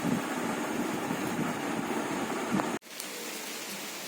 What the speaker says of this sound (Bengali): বাইরে পড়ছে প্রচুর বৃষ্টি এখন একটু কমেছে এতক্ষণ বেশ জোরে হচ্ছিল মুসলধারে বৃষ্টি